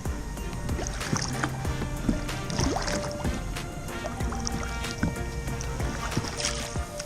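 Paddling of a little boat in a swimming pool in Siargao: continuous close splashing and dripping water strokes, with faint voices in the background.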